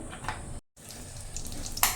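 Mustard oil frying in a wok: a soft, steady sizzle with brief crackles, cut by a short moment of silence before the hiss resumes.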